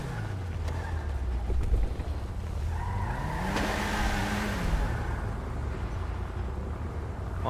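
A car engine in PUBG drones low and steady while driving, its pitch rising and falling as it revs in the middle, with a brief tire squeal, heard alone.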